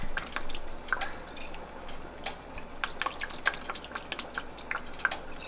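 Thin liquid drips and trickles into a pot of Thai rice soup with pork, fish sauce poured as seasoning, a series of soft, close, irregular splashes and drops over a low background hiss.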